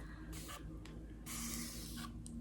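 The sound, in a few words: spray bottle wetting hair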